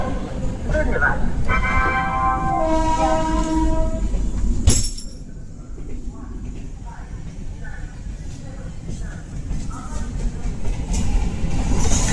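Garib Nawaz Express from Ajmer to Kishanganj pulling into a station platform, a steady low rumble of rolling wagons with a brief sharp horn burst midway, station announcement speech over the noise early on.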